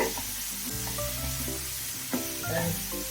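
Onion, tomato and masala sautéing in a pan for chicken macaroni pasta, giving a steady close sizzle with a few soft stirring scrapes and a brief clink near the middle, no talk.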